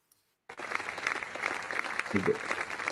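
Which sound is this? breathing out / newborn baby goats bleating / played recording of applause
played recording of applause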